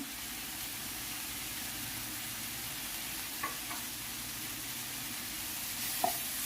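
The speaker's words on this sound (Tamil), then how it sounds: "பச்சை மிளகாய் போட்டுக்கலாம். அப்படியே இஞ்சி பூண்டு பேஸ்ட்டையும் போட்டுக்கலாம்." Green chilli and ginger-garlic paste sizzle in a pan as a steady, even hiss, with a couple of faint clinks from stirring, close but moderately quiet.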